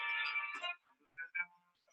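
A cell phone ringtone plays in a room, a short bright electronic melody that sounds clearly for under a second, then breaks into a few fainter broken tones.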